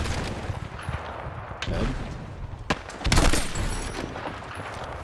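M4A1 rifle fire in the shooter Battlefield 6, with short bursts of gunshots and a louder volley near the middle, mixed under game sounds and a voice speaking.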